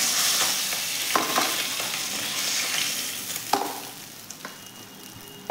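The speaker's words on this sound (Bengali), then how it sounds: "ওই তেলেতে একটা শুকনো লঙ্কা ফাটিয়ে দিলাম, তার সাথে একটু পাঁচ ফোড়ন দিয়ে দিলাম" A dried red chilli and panch phoron crackle and sizzle in hot oil, a steady frying hiss broken by scattered pops and a couple of sharper stirring knocks near the end.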